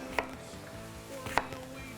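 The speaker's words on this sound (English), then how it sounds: "take a half an onion, cut that baby right in half" A knife cutting an onion in half on a board, two sharp chopping knocks spaced about a second apart over a low steady background hum.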